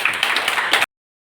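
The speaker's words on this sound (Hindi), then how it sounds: "एक बार जोरदार अपने लिए तालियां बजा लें।" Audience at an educational seminar clapping together, a dense burst of close, loud hand claps lasting under a second before cutting off abruptly.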